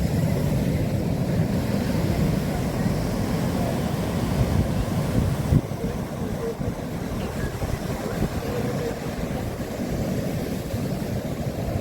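Heavy sea surf rolls in continuously at Oonjal beach during rain, a steady broadband wash of waves with wind buffeting the microphone throughout and no voices.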